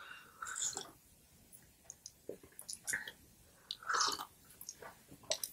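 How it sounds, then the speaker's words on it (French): Close, quiet mouth sounds from a person drinking herbal tea: soft sips, wet clicks and audible swallows in irregular bursts, with no speech. "je pense que vous m'avez entendu déglutir"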